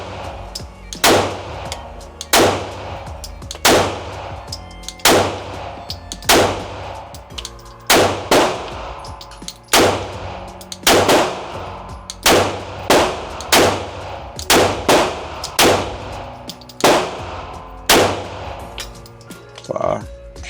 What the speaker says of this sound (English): And I'm shooting 115 steel ammo.